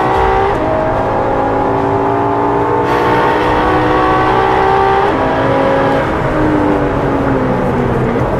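Ferrari LaFerrari on a road test, its engine loud and close with a steady high drone, rising and falling tones as it accelerates and shifts gears throughout.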